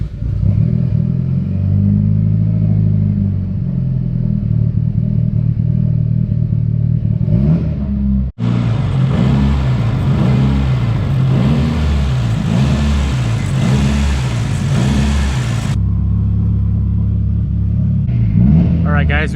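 A rebuilt Mitsubishi Evo engine struggling to stay running on its first break-in drive, a loud close low rumble with rough clatter and revving surges, a person talking over it throughout.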